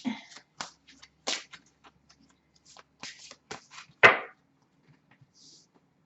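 Planet oracle cards being shuffled and pulled from a deck, a series of crisp riffling and slapping bursts with a strong final snap, close and fairly loud, then near silence.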